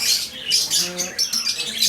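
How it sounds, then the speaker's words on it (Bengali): Doves and other caged birds in a bird shop at Souq Waqif give close, bright chirps and squawks in quick overlapping bursts, loud and busy throughout the short stretch. "এটা হচ্ছে ঘুঘু। এটা হচ্ছে এই কাতারের জাতীয় পাখি অনেকটা, এবং এই দোকানের ভিতরে অনেক পাখি রয়েছে।"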